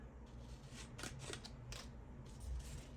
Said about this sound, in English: So I'm just gonna cut it out